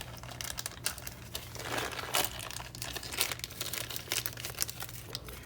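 A plastic packaging bag holding BANDAI BodyKun and BodyChan drawing figurine parts is torn open close by, giving continuous crinkling and crackling rustles with sharper tearing bursts, steady and alone without talk.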